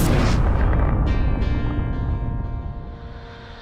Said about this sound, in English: Stage 1 is transonic. Landing legs have deployed. And Falcon 9 has landed.